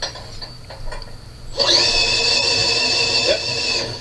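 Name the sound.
electric drill running on slow speed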